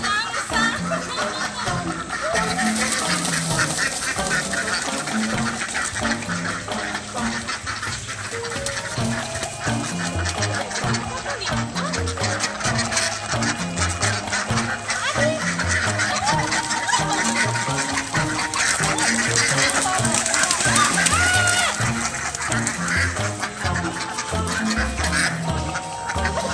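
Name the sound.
ducks quacking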